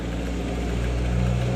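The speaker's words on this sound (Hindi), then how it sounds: "देखिए पंखा चल रहा है, पर पंखा में आवाज़ है।" A ceiling fan with a worn bearing runs steadily, giving a continuous low hum and whirring drone with a faint grinding edge, close and constant with no voices.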